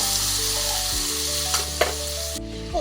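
Loud, close sizzle of asafoetida, turmeric powder and fenugreek powder frying in hot oil for sweet and spicy mango pickle, a steady crackling hiss with a couple of soft stirring knocks before it cuts off.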